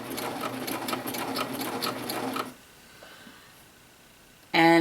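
A serger sewing a Grainline Studio Lark Tee runs rapidly and loudly past its stop point, then falls quiet before a brief restart of stitching at the end.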